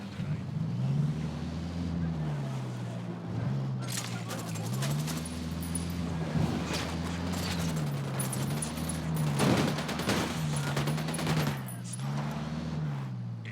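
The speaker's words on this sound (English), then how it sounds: "Opening fire on these fuckers." Gunfire in the shooter game Ghost Recon Wildlands: scattered bursts of rapid shots crackle over a steady, wavering vehicle engine drone, the firing loudest in the middle stretch.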